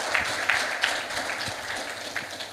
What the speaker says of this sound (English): loud of applause to the EY team